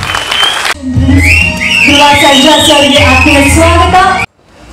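An audience at a film trailer launch claps loudly and steadily for about three seconds, with music playing over it and a voice briefly at the start, before it cuts off.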